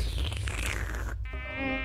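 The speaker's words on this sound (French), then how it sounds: "Encore un putain de moustique." A mosquito whines close by during a video game session, a thin, continuous high-pitched buzz that shifts in pitch as it moves near.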